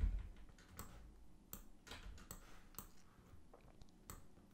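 A computer keyboard being pressed, with a scatter of sharp, quiet key clicks at uneven intervals against a faint background.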